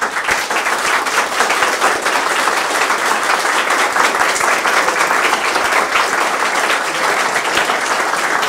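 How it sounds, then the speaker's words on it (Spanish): An audience at a lecture on economics claps in a dense, sustained round of applause, loud and even throughout. "le brindemos un cariñoso aplauso"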